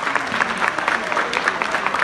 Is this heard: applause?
yes